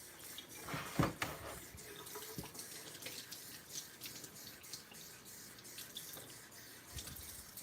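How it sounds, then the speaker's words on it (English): Running tap water splashes over fingers being washed at a sink, a steady faint flow with a few louder splashes near the start. "Now I have to wash my fingers."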